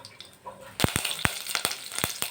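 Mustard seeds dropped into hot oil begin popping: after a quiet moment, a burst of sharp, crackling pops sounds up close over a sizzle.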